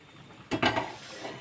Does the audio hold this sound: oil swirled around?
yes